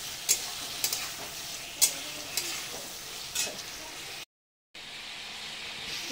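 Potatoes sautéing with spices in a hot pan give off a steady, close sizzle, broken by a few sharp spatula scrapes and a brief dropout near the end.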